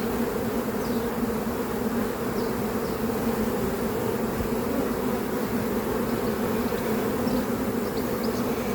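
A fallen cluster of honey bees from a caught swarm, being moved to a new hive, buzzing in a dense, steady drone that stays loud and close throughout with no talk.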